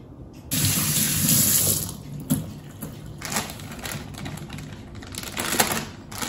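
Tap water pours into a sink while dirt is rinsed off celery, a steady close splashing rush that is loudest at first, then settles into a continuous running stream.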